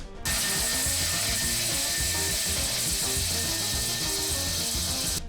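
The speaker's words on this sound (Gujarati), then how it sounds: "હવે આપણે એને મિક્સરમાં ગ્રાઇન્ડર કરી લઈએ।" A mixer grinder whirs loudly and steadily as it grinds boiled potato, green chilies, ginger and fasting rock salt, with a continuous gritty, rattling churn from start to finish and no talking.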